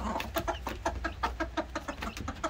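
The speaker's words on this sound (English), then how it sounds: "here is the hen and her chick" A hen clucks steadily alongside her chick as they roam outdoors, a rapid series of short, evenly spaced clucks at close range with no talking.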